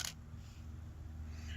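A DSLR camera fires its shutter once with a single short click at the very start, followed by a low, steady hum.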